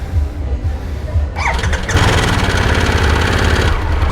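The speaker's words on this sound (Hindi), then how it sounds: "I really like the startup of the vehicle also." A Harley-Davidson Sportster S motorcycle engine starts up close and loud, with a short starter whir that catches into a steady, rumbling idle.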